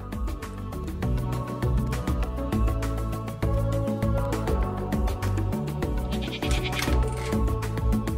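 A cartoon sheep on a farm bleats in a children's cartoon, its wavering cry riding over bouncy background music.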